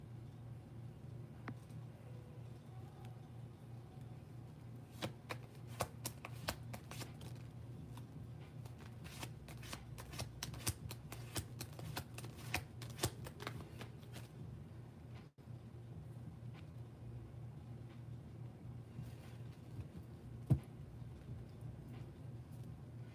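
A tarot deck is shuffled in quick runs of crisp card riffles, close and fairly soft over a low steady hum, followed by quieter stretches with an occasional tap.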